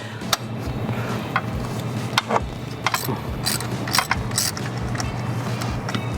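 A ratchet fitted with a 16mm deep socket and long extension breaks a car spark plug loose, heard as scattered ticking clicks over a steady mechanical hum, close and moderately loud with no speech.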